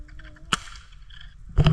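A single sharp gunshot cracks out in the open near a road with dirt bikes around, followed moments later by a louder burst of noise; no speech.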